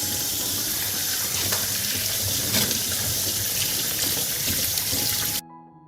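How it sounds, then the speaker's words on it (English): Tap water gushes steadily over a watermelon being washed in a sink, a loud, close, continuous splashing rush that cuts off abruptly near the end. "I'll wash the watermelon first."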